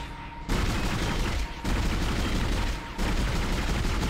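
Assault rifle fire in the video game Dead Space, loud sustained automatic bursts sprayed almost continuously, broken by two brief pauses, with no talk over it.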